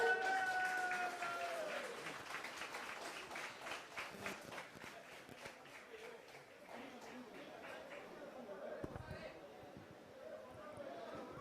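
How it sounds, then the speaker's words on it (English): Audience applause and crowd noise at a political rally in Goa, a dense, steady clapping texture from a large crowd that slowly thins out over several seconds, with voices and shouts mixed in. "Can we all give a huge round of applause?"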